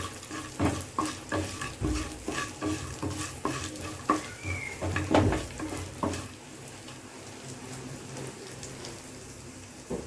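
Fried tempering being poured into ven pongal and stirred, with irregular soft scraping and wet stirring thumps over a faint sizzle, growing quieter toward the end, with no talking.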